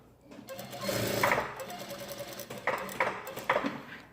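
A sewing machine stitches along a blouse neckline, a close steady mechanical whir punctuated by a few sharper rhythmic clatters as the fabric is guided.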